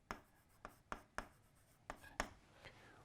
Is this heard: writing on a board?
yes